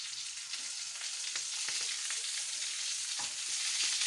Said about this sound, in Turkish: Güzellerini kızartalım.